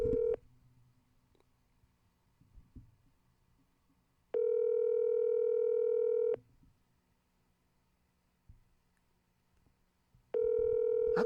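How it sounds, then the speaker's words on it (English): Telephone ringback tone while placing a call: two-second steady beeps separated by about four seconds of near silence, repeating three times, clear and alone. "I'm calling Aiden."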